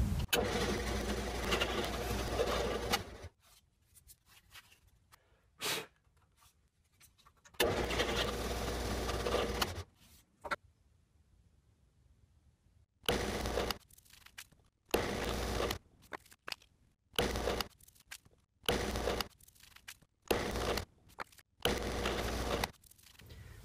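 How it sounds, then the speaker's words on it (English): Power drill boring holes in wooden slats, repeated bursts of loud motor whine with quiet pauses between, longer runs early on and then a quick series of short drilling spurts, no talking. "Now it's time to drill some holes."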